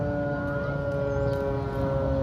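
A loud, steady siren wails with a sustained tone at Baiturrahman Grand Mosque in Aceh, marking 20 years since the tsunami, close and continuous, with no voices present.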